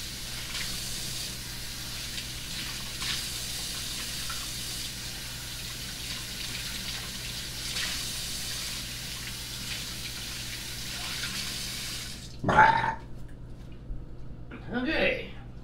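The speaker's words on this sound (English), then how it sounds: "I'm just rinsing my hands off, so just give me a second here." A tap runs steadily for several seconds, then cuts off into near silence, followed by a couple of brief splashes or voice sounds.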